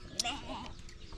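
A voice imitates a sheep's bleat in a village setting, giving a brief wavering bleat up close, then further voice sounds follow at a low level.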